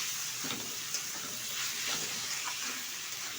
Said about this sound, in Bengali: ভাজাটা কিন্তু একদম হয়ে গেছে ঠিকঠাক